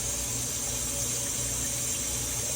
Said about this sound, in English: And I'm just going to pour